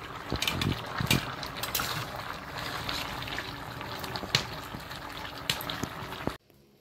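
Fried fish dropped into a pan of boiling curry, giving a steady bubbling, sizzling wash with a few sharper splashes and clinks, close and fairly loud, cutting off abruptly near the end.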